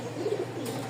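Pigeons coo in a low, soft murmur at close range, a steady gurgling hum with a brief brighter rustle near the end; these are Lotan and Giribaz pigeons from Rajshahi, and no one speaks.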